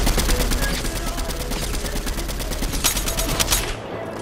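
Rapid gunfire from the video game Fortnite rattles in dense, continuous bursts of sharp shots, loud and close, easing off near the end.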